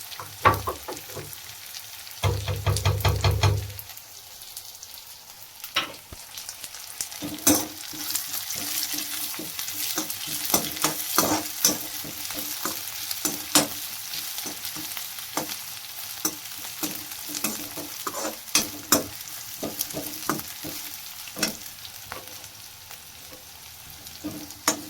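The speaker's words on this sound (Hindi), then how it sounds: "प्याज के साथ ही अच्छी भून जाएंगी" Onions and whole dried chillies fry in a pan, a constant sizzle punctuated by many sharp spatula scrapes and taps in an irregular rhythm, after a brief low rumble near the start, with no speech.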